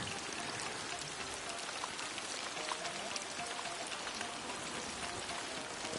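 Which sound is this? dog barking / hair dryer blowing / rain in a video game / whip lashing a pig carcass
rain in a video game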